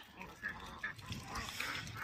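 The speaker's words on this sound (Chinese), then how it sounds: "抓两只鸭子" Ducks quacking on a farm, a few faint, nasal calls scattered across the clip over low background noise.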